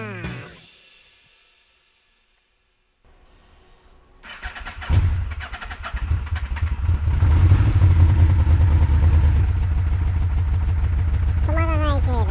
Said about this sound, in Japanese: エンジン始動します。